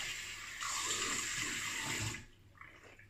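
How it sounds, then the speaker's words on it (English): Cold water runs from a sink tap for about two seconds in a steady, close rush as a shaving brush is rinsed, then cuts off, leaving a few faint drips and handling sounds. "Cold water rinse."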